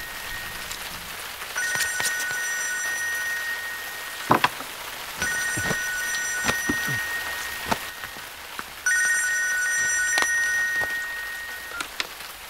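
A telephone rings in three repeated bursts of electronic trilling tones, separated by pauses, over a steady patter of rain with occasional sharp taps.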